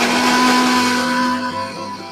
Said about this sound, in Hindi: इन सारी चीजों को आप मिक्सी में डाल के एक फाइन पाउडर बनाने का ट्राई करो